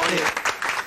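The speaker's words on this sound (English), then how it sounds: "We can clap them." Audience applause for a theater's tech crew during a drag show: a short, dense wash of clapping from a crowd, steady and fairly close, lasting under a second.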